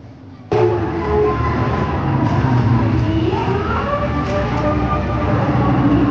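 A small amusement park ride train runs at Johan Park in Jhenaidah, Bangladesh, with a loud, continuous rumble and clatter of wheels on track, heard up close from aboard, with faint voices in the background.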